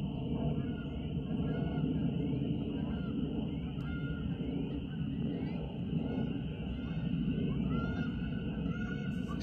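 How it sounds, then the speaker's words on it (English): Geese honk faintly in the distance outdoors, a few scattered calls over a steady, dense background rumble. "I hear some geese."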